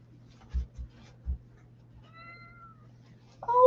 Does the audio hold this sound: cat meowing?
yes